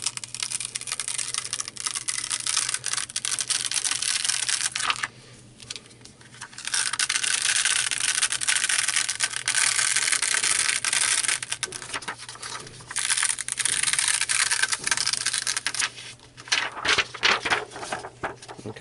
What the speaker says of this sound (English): Then we'll just peel it off.